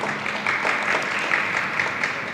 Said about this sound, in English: Please give a round of applause to Kevin.